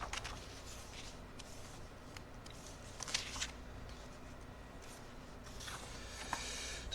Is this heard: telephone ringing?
no